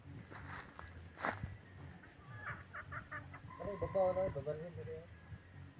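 Chickens on a rural property in Cantiguib, Bohol, giving short clucks and squawks, with a louder burst of calls near the end, over background noise and faint voices.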